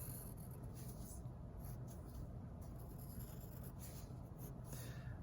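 Pencil drawing on paper, sketching a circle for a window on a spooky house, a continuous soft scratchy rubbing that runs steadily close up throughout, with no talking.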